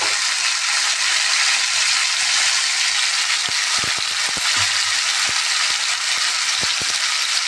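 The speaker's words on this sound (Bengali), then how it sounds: "রুটির সাথে খাবার জন্য ভালো করে একটু ভাজছি।" Okra (dharos) frying in hot oil, a steady loud sizzle filling the whole stretch, with a scattering of short clicks and scrapes of a spatula in the pan toward the end.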